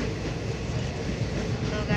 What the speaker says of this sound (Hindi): गाइस ट्रेन चल गया और अभी हम लोग जा रहे हैं.